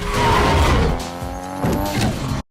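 Car drifting through a street race corner in a 2 Fast 2 Furious film scene, engine roaring loud and steady with tires squealing and skidding across the whole stretch before cutting off abruptly.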